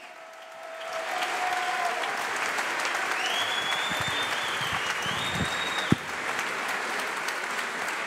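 Audience at a gala breaks into applause that swells within the first second and then holds as sustained, full clapping, with a brief sharp knock near the end and no speech.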